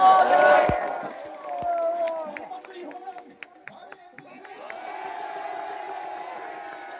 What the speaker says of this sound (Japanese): この声援聞いていかがですか